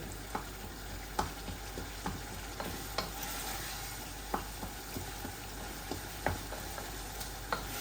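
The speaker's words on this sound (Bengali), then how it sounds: "এই দেখুন আমার কিমাগুলাও ভুনা হচ্ছে" Minced meat fries in a pan as it is cooked down into bhuna, giving a steady close sizzle with light scraping stirs at irregular intervals and no talking.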